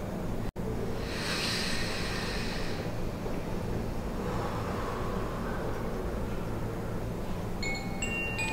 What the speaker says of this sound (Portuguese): faça uma respiração profunda e longa, inspirando pelo nariz e expirando pela boca